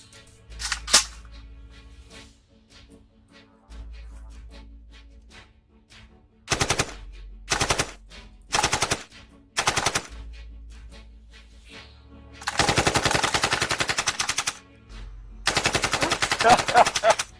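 Bursts of machine-gun fire from a rifle said to fire 9mm bullets, set in a Nigerian action movie: several rapid rattling volleys, some long and loud, separated by short gaps with low rumbling music underneath.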